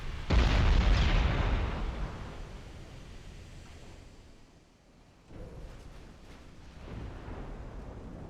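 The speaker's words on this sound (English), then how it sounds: "We are landing a lot of torpedoes." Torpedoes striking warships in Ultimate Admiral Dreadnoughts: a heavy explosion booms up front and rumbles away, followed by further duller blasts and a low, wash-like roar.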